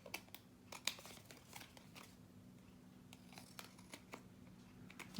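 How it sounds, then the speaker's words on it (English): Long scissors trimming the edge of a paper page in a handmade recipe mini album, a run of soft, crisp snips and rustles at close range, low in level, with no talk. "I'm going to turn it over with my longer scissors and just trim it up."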